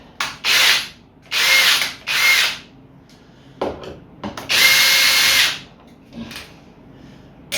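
A power drill whirs in several short bursts, loud and close, with brief pauses and some handling clatter between runs.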